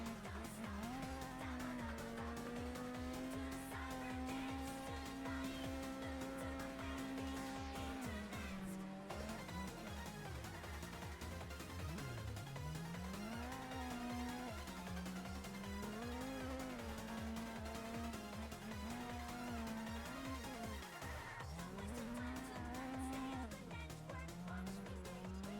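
Race cars in a racing video game, an Evo and a Miata, engines droning and shifting through gears with tire squeal, all laid over steady loud background music for the whole stretch.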